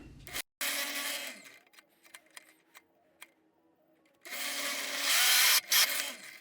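A drill press drives a cheap bit into 1.5 inch cypress: a short burst of grinding, then quiet scraping and taps, then a louder, steady roar of the bit running that cuts off sharply near the end.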